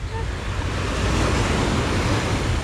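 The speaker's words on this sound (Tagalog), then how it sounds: "Lumalakas yung ano, lumalakas yung alon." Ocean waves grow stronger at Gemini Beach in Ting Kau, Tsuen Wan, Hong Kong, as cargo boats pass, a loud, continuous roar of surf and wind that swells slightly over a few seconds.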